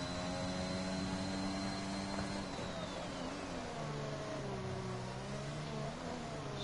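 Racing car engines in a sim racing game, steady droning with shifting harmonic tones as cars circle a Netherlands circuit, continuous and fairly loud, no talk.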